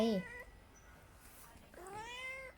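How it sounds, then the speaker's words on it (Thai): A cat gives two meows, a short one at the start and a longer rising one later. Both are near but fairly soft, with quiet room tone between them. "เสียงแมว"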